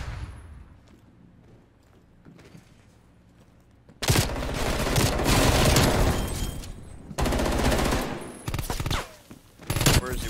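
Bursts of Call of Duty Cold War gunfire break out after a quiet start, loud and dense automatic shooting in several long volleys with brief gaps between them.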